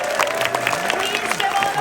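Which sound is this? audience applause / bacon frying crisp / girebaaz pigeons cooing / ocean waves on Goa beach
audience applause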